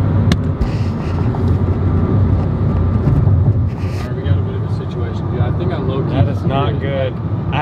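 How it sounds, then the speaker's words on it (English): A car drives along with a flat tire wobbling, a steady low road rumble and engine drone filling the cabin while people talk over it. "hear the tire wobbling"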